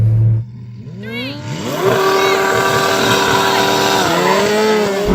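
A Lamborghini Huracan Turbo launching in a drag race against a Kawasaki H2R, its engine surging from idle into a loud, rising rev that climbs through the gears with sweeping pitch changes, heard up close from inside the car.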